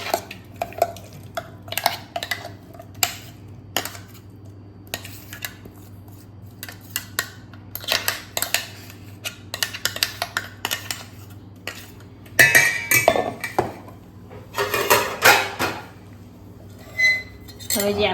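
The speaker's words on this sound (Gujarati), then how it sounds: "હવે આપણે એને એક વાસણમાં કાઢી લઈશું" Ground lentil batter for khaman is scooped from a grinder into a vessel, with intermittent clinks and scrapes of a spoon against metal containers, close and sharp, in irregular bursts.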